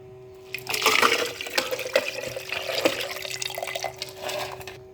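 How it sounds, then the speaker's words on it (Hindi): Ice-chilled water poured from a glass into a juicer while making a jaggery sherbet, a steady splashing pour that starts after a moment and runs loudly to the end, with no talk. "आपने 1 गिलास चिल पानी ले लेना है, बर्फ़ वाला, और इसको हम ऐड करेंगे जूसर में।"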